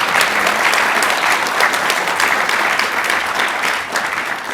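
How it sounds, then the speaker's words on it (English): A conference audience at an African business forum gives a round of applause, loud, sustained, even clapping from many hands filling the room for several seconds before easing slightly at the end. "they do deserve a round of applause"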